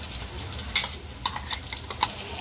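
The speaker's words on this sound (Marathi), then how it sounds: "आता हे कॅटलेट दोन्ही बाजूने आपण मस्त असे खरपूस भाजून घेतले" Prawn cutlets shallow-frying in oil in a pan give a steady close sizzle with small crackles and pops scattered through it, heard alone with no talking.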